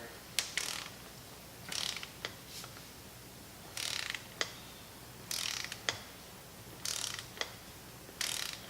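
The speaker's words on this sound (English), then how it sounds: "I got a 12 mil socket, so I'm just going to go ahead and torque this guy down." A torque wrench with a 12 mm socket tightens a bolt during a Honda head gasket job, producing repeated bursts of quick ratcheting clicks separated by short pauses, close and fairly quiet.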